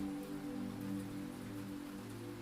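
Rain falls softly through a quiet night outside a laundromat, a faint, steady patter over a low, constant hum.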